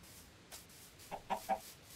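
A chicken in Minecraft Bedrock Edition clucks in three short, quiet bursts close together near the end, over soft ambient background with no talk.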